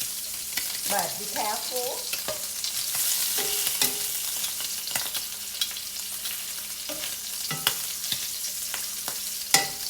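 Shrimp fry in oil in a pan for pad Thai, a bright, continuous hiss of sizzling with irregular clinks and scrapes of a utensil, while a voice briefly speaks over it.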